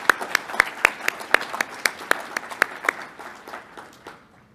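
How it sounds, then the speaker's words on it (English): A room of scholars and emerging professionals at a breakfast workshop claps in a brief round of applause, sharp individual claps standing out and thinning to a few stragglers before fading out. "Give yourselves a round of applause."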